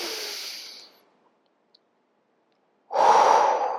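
Slow, deep breaths during a floor yoga sequence: a long airy exhale fades into near silence, then a loud, close inhale swells at the end.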